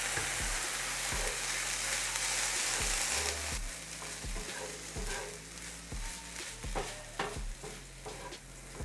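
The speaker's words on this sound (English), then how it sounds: "let me go ahead and add the Bragg's right now" Bragg's liquid aminos hit sizzling vegetables in a pan, bursting into a loud hiss that then settles into steady frying punctuated by rhythmic spatula scrapes and knocks, close up.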